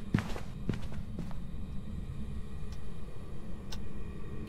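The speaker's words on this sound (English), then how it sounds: "I hear footsteps." Footsteps from the Phasmophobia video game sound in a series of distinct thuds and taps. A few crisp knocks stand out over a low, continuous background hum, and no one speaks.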